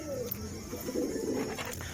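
Pigeons in a home loft cooing softly, low throaty coos rolling close by against a steady background hiss.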